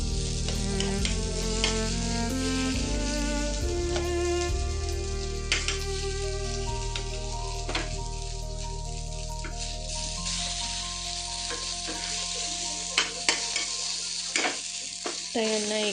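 Bombil (Bombay duck fish) fries in a pan with a steady crackling sizzle, punctuated by occasional sharp pops and the clink of a utensil stirring, all continuous and close.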